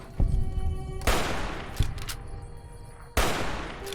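Explosions in a video game set among vaults burst out in a few loud broadband blasts, separated by short gaps with lingering rumble and debris noise.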